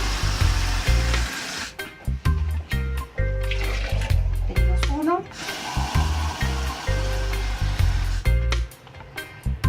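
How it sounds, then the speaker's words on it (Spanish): An electric blender blends peeled almonds with water for almond milk, its motor running in loud bursts that stop and restart several times, with a voice speaking briefly over it. "Procedemos a licuar."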